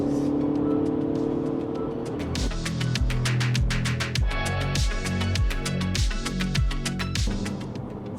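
A Mini Cooper S engine on a race track hums at a steady pitch, then drops into a rapid series of sharp downshift blips and snarls, each rev flaring and falling in quick succession.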